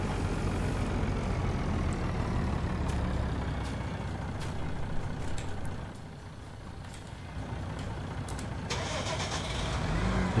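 A vehicle engine starts and runs steadily outdoors on a snowy farm yard, a low continuous rumble that dips briefly midway and swells again as it is driven aside.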